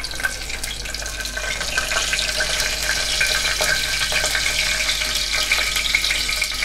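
Cumin and mustard seeds sizzling in hot oil in a pressure cooker for dal khichdi, a steady, bright crackling hiss that continues evenly and close throughout without speech.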